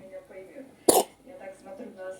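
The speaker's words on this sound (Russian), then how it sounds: "Кашляла?" A baby gives a single short, sharp cough or throat-clearing burst in the middle, close and fairly loud, surrounded by soft infant vocal sounds.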